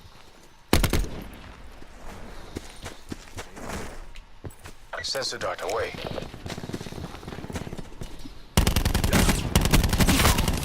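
Rapid bursts of automatic gunfire crackle in Call of Duty: Black Ops 4 Blackout, loud and close, with a voice speaking briefly between volleys.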